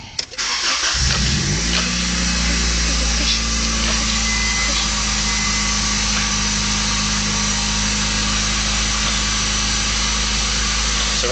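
A Honda car engine with a faulty idle air control valve cranks, catches and settles into a loud, steady, fast idle that runs unbroken close to the microphone.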